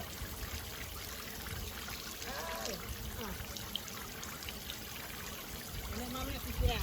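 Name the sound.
water running at a splash pad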